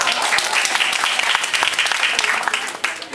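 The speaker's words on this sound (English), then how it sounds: "you should not have clapped" A lecture audience claps loudly and steadily for about three seconds at a health product presentation, a dense, even patter of many hands with no voices over it.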